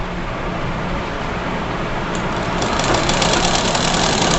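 A sewing machine stitches gathered fabric for a girl's frock with a dense, continuous mechanical whir that grows slightly louder and busier partway through, heard up close with no speech.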